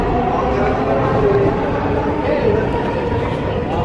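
Inside a crowded Dubai Metro carriage during a Friday rush, a steady loud rumble of the moving train runs throughout the ride, with faint passenger chatter beneath it.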